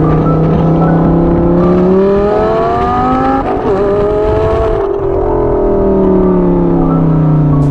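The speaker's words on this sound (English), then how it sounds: "Lamborghini derived V10 engine with that great sound." The Lamborghini-derived V10 engine of an Audi R8 revs hard and close, pitch climbing in a high howl, dropping, then rising again through loud sustained passes.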